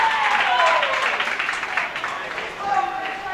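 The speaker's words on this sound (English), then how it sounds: "A lot of cheering for the Aussies." A crowd cheers and applauds for the Australian squad at a women's doubles tenpin bowling world championship, a dense, steady roar of many voices and clapping filling the hall, fairly loud and continuous throughout.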